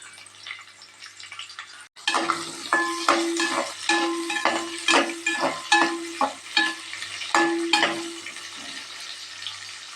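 Onions frying with whole spices (fennel, cardamom, stone flower, star anise, bay leaf) in a pan for Coimbatore-style chicken biryani: a steady close sizzle with rhythmic scraping stirs, starting abruptly after a brief quieter moment.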